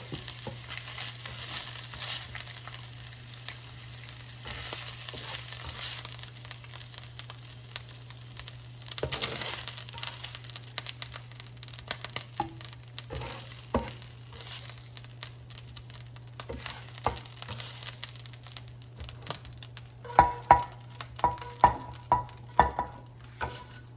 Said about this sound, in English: leave the grease because we'll use it for frying eggplant.